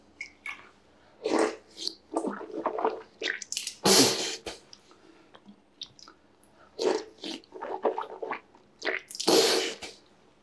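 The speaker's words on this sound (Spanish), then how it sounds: "El agua tiene que moverse dentro de la boca." Water sloshes and gargles in a mouth while it is rinsed during Islamic ablution. There are several separate wet bursts of swishing and spitting, close and intermittent, with quiet gaps between them.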